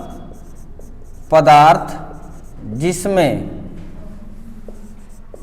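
Marker or chalk scratches across a board during a physics lesson, a soft continuous scraping that carries under a teacher's voice, which speaks in two short bursts.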